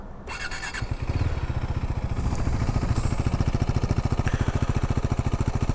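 A 2018 KTM Duke 390, a low-displacement motorcycle, starts up and settles into a steady, rapid idle thump with a few throttle blips, loud and close with no talking.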